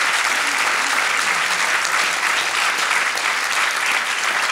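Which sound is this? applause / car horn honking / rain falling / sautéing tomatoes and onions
applause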